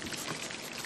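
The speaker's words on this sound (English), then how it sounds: "we need to pour some oil" Cooking oil pouring into a pan while preparing Ekpang Nkukwo, a steady soft hiss of liquid lasting under a second with no break, quiet and close.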